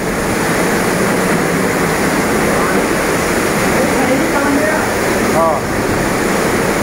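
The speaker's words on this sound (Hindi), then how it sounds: "बादल फट गया ऊपर, भयंकर पानी भर गया ऊपर" Floodwater after a cloudburst rushes loudly and without pause near a temple outside Dehradun, a dense roaring wash; a voice speaks briefly over the torrent.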